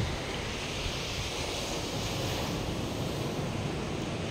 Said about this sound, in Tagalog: Narinig mo yung waves.